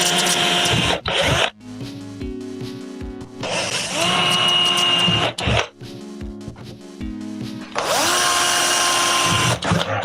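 Power drill driving screws into wood, three whining bursts that rise in pitch as each screw spins in, separated by short pauses and clicks, loud and close.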